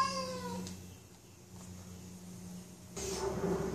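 A house cat meows twice, first a drawn-out cry and then a shorter one about three seconds later, nearby and moderately loud, with a quiet room hum between the calls.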